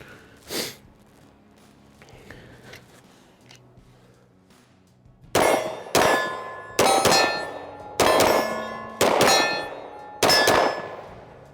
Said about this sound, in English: But let's shoot that 2311.